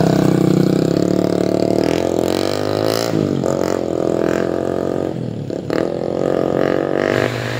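A Rusi TC 125 motorcycle engine runs steadily under road testing, a loud, close mid-pitched drone with slight revving swells and a brief dip near the end.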